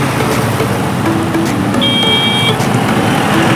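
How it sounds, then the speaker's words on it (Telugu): Sunday road traffic near a small bridge and canal on the way to Nukapalli forms a steady roadside rumble, with faint thin horn-like tones rising briefly above the constant wash of vehicles. "సండే అయినా సరే ట్రాఫిక్ మామూలు కదా"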